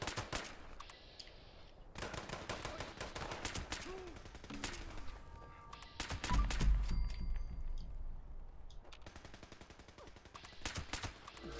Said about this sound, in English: I don't like the suppressor sound though